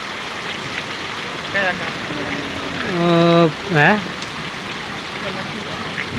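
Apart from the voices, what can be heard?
heavy rain with hail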